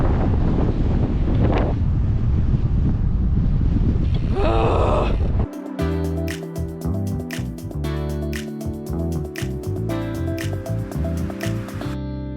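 Strong wind roars and buffets the microphone while cycling on the Wood River Trail near Sun Valley, Idaho, loud and continuous for about five seconds before giving way to music.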